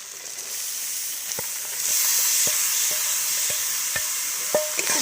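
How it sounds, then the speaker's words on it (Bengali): Grated beetroot and carrot fry in a pan with turmeric and ginger, giving a continuous close hiss and sizzle. Light, regular taps and scrapes of a spatula sound as the vegetables are stirred. "খুব ভালো করে আমি এবার কষে নেব"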